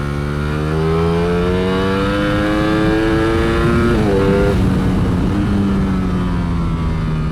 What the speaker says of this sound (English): I love this bike. I can do lap after lap after lap on this thing.